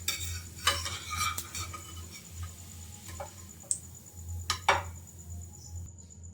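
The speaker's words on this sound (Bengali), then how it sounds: "আঁচটা কমিয়ে রেখে আমি ভেজেছি রুটিটা" Egg-and-milk soaked bread slices fry in a pan over low heat, giving a soft, steady sizzle broken by a few sharp clinks and scrapes of a utensil, with no talking.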